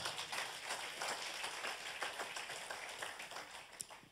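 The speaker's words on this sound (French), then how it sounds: "Quelqu'un ici acclame le Seigneur." Church congregation acclaiming the Lord, a wash of clapping and applause from the crowd, steady and moderately distant throughout.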